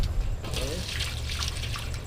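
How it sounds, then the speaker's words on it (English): Water poured carefully into an animal feeder, a soft continuous trickle and splash, close by, with voices in the background. "Talia, you put the water in there carefully. Okay, carefully pour it in there."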